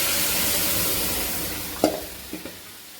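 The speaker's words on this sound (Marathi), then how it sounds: "आता भाजी आणि डाळ आपण याच्यात टाकून घेतलेली आहे फोडणीमध्ये" Cooked spinach and dal stirred into a hot tempering for palak rassa bhaji, with a steady soft sizzle throughout and a few sharp scraping stirs near the end, close and without talk.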